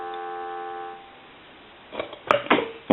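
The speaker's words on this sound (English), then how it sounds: "Give you some dial tone." A French-style desk telephone under repair gives a steady dial tone for about a second. It fades into quiet, followed by a few sharp clicks and clunks from the handset.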